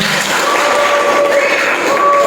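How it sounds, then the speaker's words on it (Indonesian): Classroom applause from students after a group presentation on Asmaul Husna, a steady dense patter of clapping filling the whole short stretch at moderate loudness with no talk over it. "Kasih tepuk tangan."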